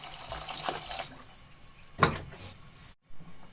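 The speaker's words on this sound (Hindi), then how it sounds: "अब इसमें मैं 1 गिलास पानी का शामिल कर लूंगी।" A short splash of water pours into a pot of simmering keema with potatoes, a brief liquid rush followed by a second quick gush, then near silence.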